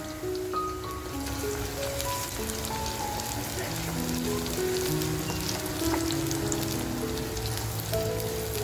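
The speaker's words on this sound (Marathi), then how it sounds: "आता जो आपण कांदा घेतलाय तो कांदा मी ह्या तेलामध्ये अगदी छान फ्राय करून घेणार आहे" Onion sizzles steadily in hot oil for mutton korma, a dense close crackling hiss like rain, with faint tones drifting in the background.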